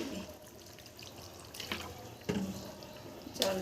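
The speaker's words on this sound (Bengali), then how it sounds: "একটু জল দিয়ে দিই" Water poured from a container into a pan of cooking jackfruit splashes and trickles softly in short bursts, faint and close, with small clinks of utensils.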